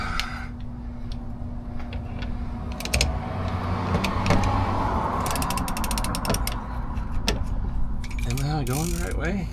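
A ratchet works loose a very tight part during a car oil change, its pawl clicking close and loud in fast runs of sharp ticks over a steady low mechanical hum, and nobody speaks.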